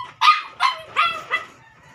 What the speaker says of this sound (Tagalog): maingay nga aso namin